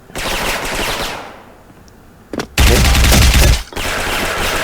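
A suppressed MX-4 MOD0 machine gun in a shooting video game fires in loud sustained bursts, with a short pause and a brief sharp shot before a long, dense volley.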